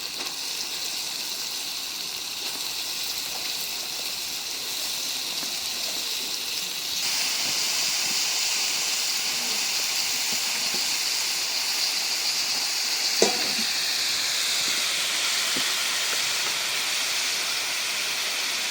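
Cabbage hitting a hot pan that already holds boiled small shrimp, a steady loud hiss that gets stronger partway through and keeps sizzling, with a brief clink near the end.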